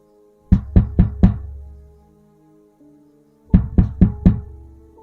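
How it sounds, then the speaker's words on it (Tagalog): Two bursts of four sharp knocks on a door, separated by a pause, ring out loud and close over a low, eerie musical drone. "Yung nasa bubong ay tumalon sa lupa tapos kumatok sa pintuan."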